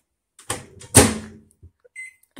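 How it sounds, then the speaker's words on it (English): A festive cup is set inside a microwave oven with a sharp clunk and door sounds, followed by a few soft taps and faint beeps in an otherwise quiet kitchen. "Okay, so I'm gonna put it in the microwave."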